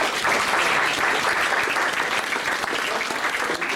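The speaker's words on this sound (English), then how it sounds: "So I think a round of applause for Bill would be appropriate." A lecture-hall audience applauds steadily for a man named Bill, who is being thanked after a talk about the Packard Proving Grounds. The dense, even clapping fills the room throughout and ends with no speech over it.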